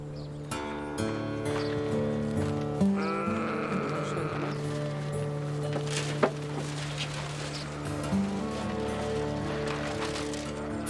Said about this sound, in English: Today, only a few sheep remain.